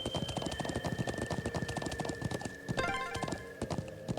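Horse hooves clip-clop at a steady trot in the video game Trails of Cold Steel, layered over game music with a brief whinny-like flourish near the end.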